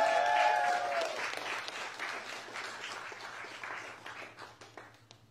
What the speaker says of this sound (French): Alors le caméraman il s'appelle Paul, on peut l'applaudir parce que c'est chaud ce qu'il a là.